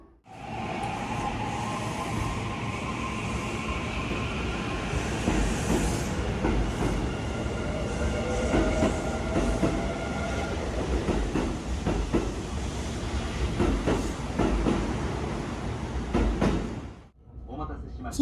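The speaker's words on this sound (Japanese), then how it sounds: "近鉄京都駅を出発しました。" A Kintetsu Shimakaze limited express train rumbles steadily as it pulls away from Kintetsu Kyoto Station, with rhythmic wheel clatter and faint squeals building, then the noise briefly drops out near the end.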